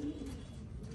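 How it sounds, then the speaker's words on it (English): Pigeons cooing as they are let out of a loft on a hot day; low, soft, murmuring coos repeat steadily through a short, quiet stretch, close by with no talking. "Birds are out."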